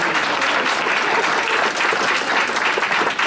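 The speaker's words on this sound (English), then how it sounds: "Let's give Becky a round of applause." Enthusiastic applause from a group, steady and full, clapping continuously throughout the short stretch with no talking.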